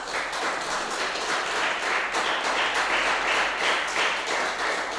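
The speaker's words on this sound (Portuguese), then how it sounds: "Tem palmas para Jesus?" A church congregation claps for Jesus: a continuous, moderately loud roll of many hands applauding in a large room, steady with slight pulsing, and no talking.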